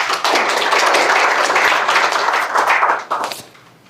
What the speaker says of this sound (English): Let's give Paul a round of applause.